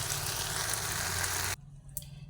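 Okra frying in a pan for a Punjabi-style bhindi fry, a dense steady sizzle that cuts off abruptly partway through, leaving faint quiet noise with a small clink.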